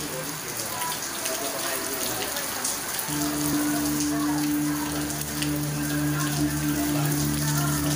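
Steady rain pattering on a surface, a dense continuous hiss throughout, joined midway by a sustained low tonal drone.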